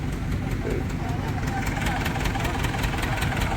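A tractor engine idles close by with a steady chugging knock, running continuously throughout.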